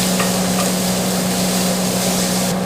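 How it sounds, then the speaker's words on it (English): Minced garlic sautés in hot oil, making a dense, steady sizzle with a low hum underneath that stays close and even throughout. "Then you just want to saute the garlic while lightly brown"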